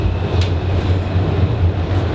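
A tram rolls along its rails with a steady, loud low rumble and faint rattling throughout, with no talk.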